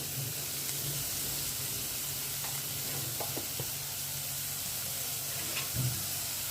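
Brinjal and prawn curry frying in a pan with salt and turmeric gives a steady, close sizzle and hiss, broken by a few soft stirring scrapes, with no voices.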